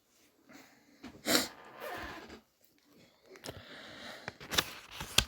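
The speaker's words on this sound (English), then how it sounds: "Let me blow my nose real quick." Someone blows their nose close by, several short forceful honks and snorts in bursts with quiet gaps between them.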